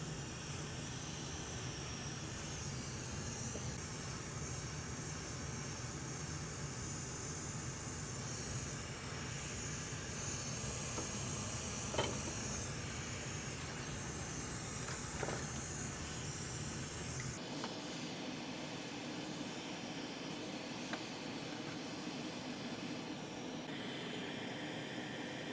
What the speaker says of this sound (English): Right now, the first thing I want to do is preheat the board.